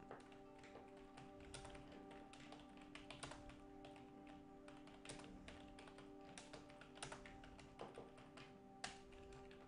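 Steady, rapid typing on a computer keyboard while entering text into a Word document, with quick clustered keystrokes and occasional louder taps over a constant low hum, with no one speaking.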